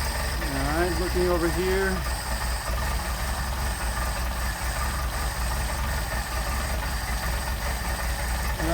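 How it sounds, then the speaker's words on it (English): A Mercedes 190SL engine with Solex carburetors idles very low and steady, a loud continuous rumble with a faint uneven beat, while someone speaks briefly near the start. "we're running about 500 RPM idle, which is amazing, but too low."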